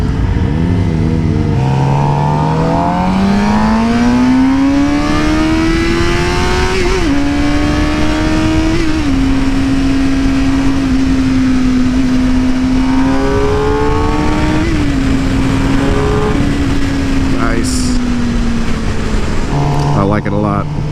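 A Suzuki GSX-R 750 sport motorcycle engine on a test ride, its pitch climbing through the gears and then holding a steady cruising drone, loud and continuous with wind noise and a rider talking over it.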